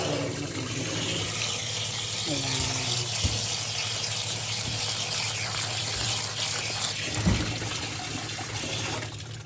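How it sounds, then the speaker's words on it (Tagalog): Cold tap water runs steadily over cooked noodles for lomi as they are rinsed, a continuous hissing splash with a few brief knocks and clatters and no talk over it. "Hugasan natin siya ng malamig."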